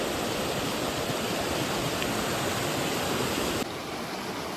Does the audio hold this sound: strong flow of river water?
yes